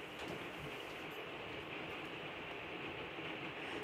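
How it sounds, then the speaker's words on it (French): Steady rain falling outdoors, a faint continuous broadband hiss with no breaks and no voices. "en espérant que la pluie s'arrête."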